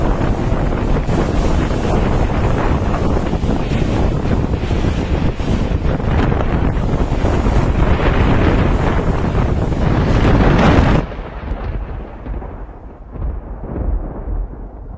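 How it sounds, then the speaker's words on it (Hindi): Strong cyclonic storm winds roar in a loud, continuous blast of wind noise that buffets the microphone, then drop to a quieter, thinner gust near the end; no speech. "तो अभी आपने ये देखा कि चक्रवाती तूफान और आंधी की स्थिति होती क्या है।"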